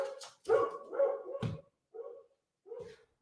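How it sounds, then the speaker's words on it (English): A dog in a recording studio barks and yips in a few quick, close bursts, with short pauses between them and no talking. "Got my dog in the studio, so I'm dealing with that."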